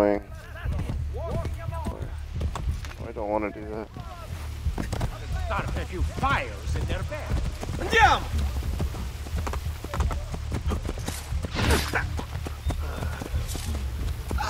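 Horse hooves clopping in the video game Assassin's Creed Brotherhood, a rhythmic run of hoofbeats under a player's frequent talking and game sounds.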